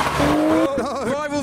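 A car drifts near the Nürburgring, its tires squealing in wavering, rising and falling tones that are loud and close, with a voice heard briefly over it.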